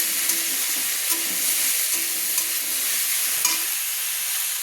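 Tomatoes cooking down with half a spoon of salt in a frying pan for chicken changezi, stirred steadily with a utensil; continuous close sizzle with periodic scraping strokes, no talking.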